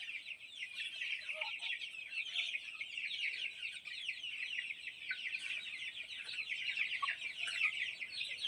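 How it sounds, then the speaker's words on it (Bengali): A desi hen clucks among chickens in a village yard, busy high chatter and clucks running continuously at moderate distance, with no voices. "এই মুরগিটার দেশি মুরগি।"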